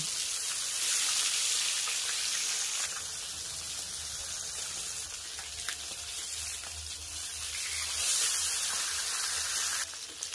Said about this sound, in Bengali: এবার তেলে এক এক করে মাছগুলোকে আমি দিয়ে দেব